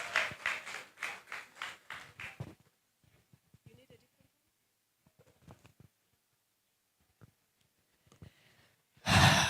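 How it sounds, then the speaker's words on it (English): A party audience claps in quick bursts for a singer, several fast rhythmic claps for about two seconds that stop abruptly. A stretch of faint, scattered sound follows before a loud burst returns at the very end. "a round of applause for the amazing songstress"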